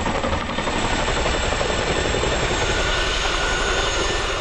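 A loud, steady CH-47 Chinook helicopter roar with a dense thrum from its 60-foot tandem rotors and engine whine, unbroken throughout and close by.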